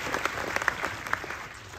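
An audience applauds together in a steady wash of clapping at a talk about The Shining, with a few louder individual claps standing out near the front.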